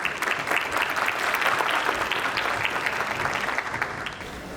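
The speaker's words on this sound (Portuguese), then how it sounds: "Uma salva de palmas." A lecture audience at an architecture congress breaks into sustained applause for the speaker, a dense, loud wash of many hands clapping together that tapers slightly toward the end.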